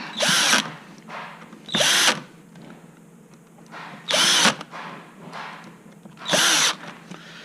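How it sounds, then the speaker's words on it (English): A power tool drives screws to fasten a gearbox to a housing: four short, loud bursts of whirring at uneven gaps, with quiet handling between them and no talk. "we'll now fasten the gearbox to the housing"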